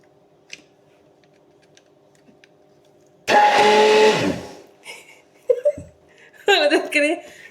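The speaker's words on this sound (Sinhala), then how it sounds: "අපි දැන් මේකෙන් මේ හොඳට සුප් එක බ්ලෙන්ඩ් කරගමු." A kitchen blender whirs loudly for about one second while pureeing lentil soup, then stops abruptly, followed by a few scattered clatters and brief noises in a quiet room.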